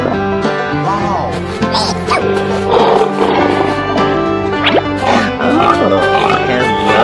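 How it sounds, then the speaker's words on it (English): Pig oinking and grunting in a cartoon-style animal transformation sequence, dense and loud with music and other effects layered around it, the calls rising and falling in short bursts throughout. "Pig."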